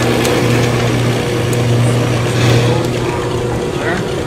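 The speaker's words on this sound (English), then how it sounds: "It's simply meant for drilling some holes. I'm going to drill a few holes." A drill press motor hums steadily and fairly loudly throughout while drilling holes in wood, a constant machine drone with little change in pitch.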